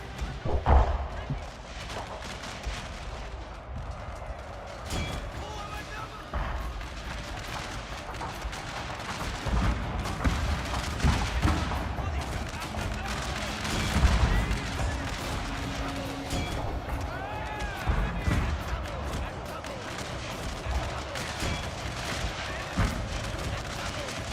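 Heavy artillery fire booms repeatedly in Total War: Shogun 2: Fall of the Samurai, dense thuds and blasts rolling on for the whole stretch amid battlefield noise, with voices speaking over it at times.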